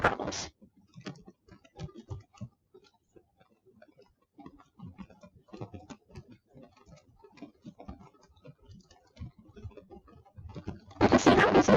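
Typing on a computer keyboard, with rapid irregular key clicks running steadily and fairly close, ending in a louder burst of keystrokes and no talking.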